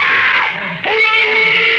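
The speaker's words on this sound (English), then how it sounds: "Those screams. They sounded familiar." Shrill, sustained screams ring out in an old-time radio drama adaptation of Ray Bradbury's The Veldt, two loud overlapping cries that break briefly and then resume with a wavering, echoing tone.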